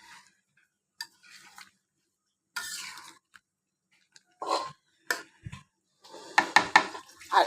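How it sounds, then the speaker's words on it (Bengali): Magur catfish pieces and drumsticks gently stirred in a pan for a home-style Bengali curry, with soft scattered scrapes and light clinks of a utensil against the pan in short separate bursts, fairly close. "এখন এটাকে আমি একটু আলতো হাতে নেড়ে দেবো"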